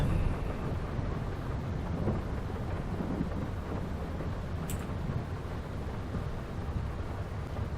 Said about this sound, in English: Oh man, is it ever raining?